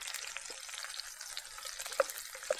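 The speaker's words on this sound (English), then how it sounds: "put some butter on them, or at least there will be some fresh butter melting in the pan" Trout fries in melting butter in a pan at a wilderness backpacking camp: a soft, steady hiss of fat with a couple of light clicks near the end.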